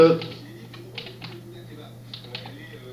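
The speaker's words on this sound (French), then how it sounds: "Donc là, je vais taper regedit." Someone types regedit on a computer keyboard, producing a handful of light, sparse key clicks against a low steady hum.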